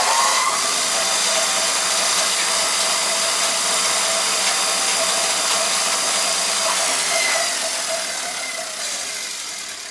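A W F & J Barnes Camelback drill press driven by a 1915 electric motor runs with a steady loud whirring hum and mechanical whine, holding constant before beginning to wind down near the end.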